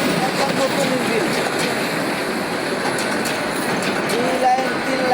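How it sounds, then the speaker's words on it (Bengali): A train with a new engine pulls into a Bangladeshi railway station, a steady broadband rumble of rolling railcars with faint wheel squeals, continuous and fairly loud throughout. "ট্রেন এসেছে ভাই"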